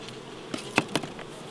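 Honeybees around an opened hive box during winter feeding with a feeder: a few faint, brief buzzing bursts over quiet background, close by but soft.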